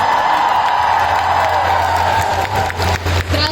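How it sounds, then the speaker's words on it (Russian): Audience at ComicCon Russia applauding a guest onstage, dense sustained clapping from a large crowd indoors, loud and steady and easing slightly toward the end, with faint cheering mixed in. "Ваши аплодисменты."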